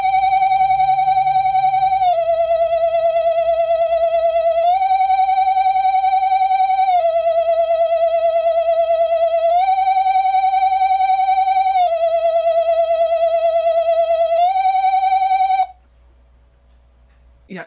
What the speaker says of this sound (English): it was basically this really shaky ghost that made this weird sound